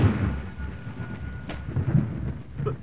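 Steady heavy rain with a rumble of thunder in a film scene, loud and continuous, with a sharper crack midway and no voices.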